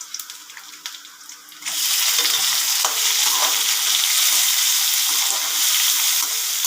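Onions hit browned chana dal in hot oil. A quiet start jumps to a loud, dense sizzle, and the hiss stays steady as the pan is stirred.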